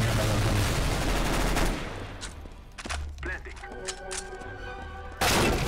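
Counter-Strike: Global Offensive gunfire, with shotgun blasts, begins as a dense, loud stretch of shooting. Scattered sharper shots and thuds follow over quieter game sounds, then a final loud burst.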